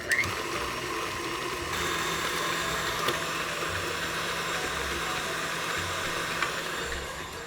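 An electric mixer beats aquafaba into vegan cookie dough with a steady, close mechanical whir that runs unbroken throughout, with no speech.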